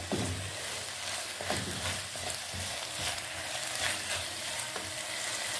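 Sliced capsicum frying in a pan while a chicken grill sandwich is being cooked. A dense, continuous sizzle runs throughout, with occasional stirring scrapes and no voices.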